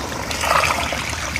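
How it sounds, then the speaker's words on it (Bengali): Milk pours into a cooking pot of spiced chicken masala for pilaf, making a short, close, gentle liquid trickle. "এখন সম্পূর্ণ দুধটাই দিয়ে দেবো।"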